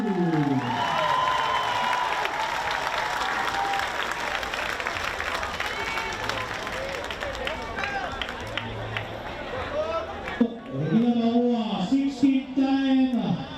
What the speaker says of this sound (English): About a big round of applause for Joshua Matthew.